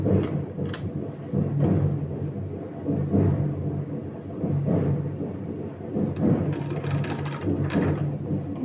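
A sewing machine stitches a folded sleeve design, running in a steady low mechanical whir with a faint rhythmic pulse and occasional short ticks, alone and close by.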